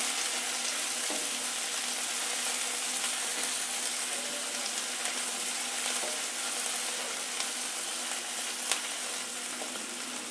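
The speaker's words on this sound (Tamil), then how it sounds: "வெங்காயம் நல்லா பொன்னிறமாக வதங்கணும்" Onions frying in a pan for chicken gravy make a continuous, even sizzle with light stirring throughout, close and moderately loud, with no one speaking.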